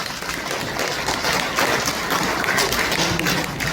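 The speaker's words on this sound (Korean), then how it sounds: "인사 그렇게 한번 박수 쳐주시죠." An audience applauding at a book concert for a former lawmaker, a dense sustained wash of many hands clapping together that holds steady and fairly loud from start to finish.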